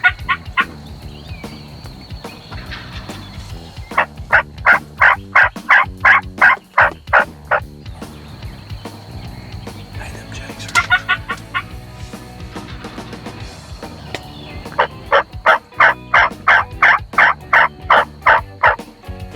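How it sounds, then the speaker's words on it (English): Wild turkeys gobble in an open field, bursts of rapid rattling gobbles repeating in several clear rounds, loud and fairly near, with other birds calling faintly and no talk. "There's a bunch of turkeys in this field"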